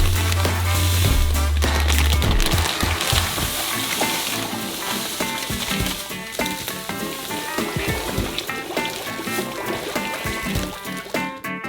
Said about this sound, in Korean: 설탕을 까서 녹은 버터에 부어주세요.